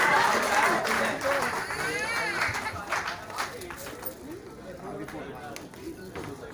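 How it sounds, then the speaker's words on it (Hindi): Crowd applause of welcome at a community gathering, a broad wash of clapping that is loudest at the start and thins out toward the end, with voices and chatter mixed in throughout. "जोरदार तालियों से इस्तकबाल करें।"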